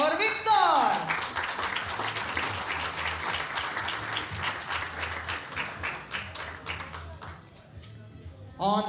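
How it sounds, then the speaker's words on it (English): Audience applause for an Olympic silver medallist in men's 10-meter air rifle at a shooting competition, steady clapping from a crowd over several seconds, fading near the end, with a voice speaking briefly at the start. "Another round of applause for Victor!"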